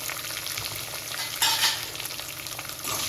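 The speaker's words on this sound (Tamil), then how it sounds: "வெங்காயம் சேர்த்துக்கலாம். பச்சை மிளகாய் கொஞ்சம் சேர்த்துக்கலாம்." Onion and green chili fry in a pan for a poriyal: a continuous close sizzle with stirring and a brief louder hiss midway, with no voices.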